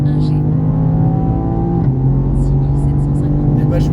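A car at full throttle on the Mireval race track, a loud steady engine drone rising in pitch with a brief dip as it changes gear, heard close from inside the cabin with wind noise, no talk.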